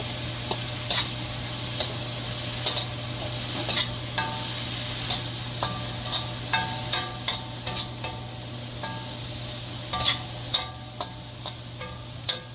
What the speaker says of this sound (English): I'm going to add my mushrooms.